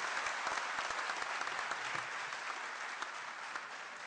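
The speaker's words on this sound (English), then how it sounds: "a huge round of applause for all of us" A large audience in a Kashmir University auditorium claps steadily and loudly, a thick continuous wash of many hands with a few sharper individual claps standing out, slowly easing toward the end.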